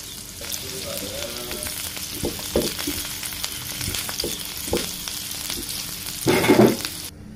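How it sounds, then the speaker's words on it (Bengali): Onion, garlic cloves and green chillies frying in a pan for a mustard-greens mash, a close crackling sizzle with stirring scrapes and a louder burst of frying near the end. "এগুলোকে ভালো করে ভেজে নিতে হবে"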